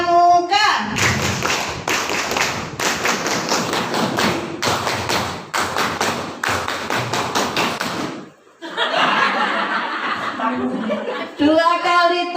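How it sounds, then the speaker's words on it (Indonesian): A group performs Indonesian scout-style rhythmic clapping (tepuk pramuka), with loud, dense bursts of claps in patterned runs, broken by a brief pause, and voices and laughter mixed in. "kali tepuk pramuka."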